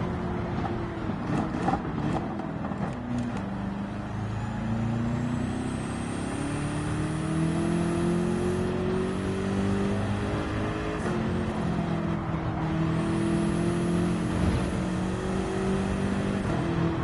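Race car engine in Gran Turismo 7 lapping Mount Panorama, a loud sustained drone that climbs and drops through gear changes at a steady level, with no talk over it.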